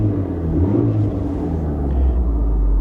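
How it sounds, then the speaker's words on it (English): A 1990 Pontiac Sunbird convertible engine revving, a loud close rumble that rises briefly and then settles into a low steady drone. "You can hear it rev."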